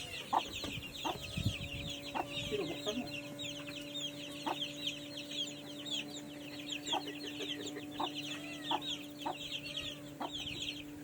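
Chickens cluck and newly hatched chicks peep continuously, with high chirps throughout and occasional louder clucks, close by and steady.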